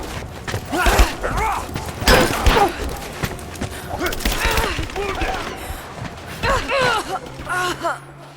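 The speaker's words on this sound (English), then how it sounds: "Give me suppressing fire!" Enemy suppressing fire in the video game Rise of the Tomb Raider, scattered bursts of shots and thuds mixed with shouting soldier voices, the gunfire partly buried under the talk.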